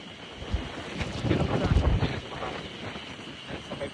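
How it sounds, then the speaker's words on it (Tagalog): Strong wind buffets the microphone outdoors in Nasushiobara, Japan, a continuous rough rumble that swells loudest in the middle of the clip, with no talk over it. "Ang lakas ng hangin."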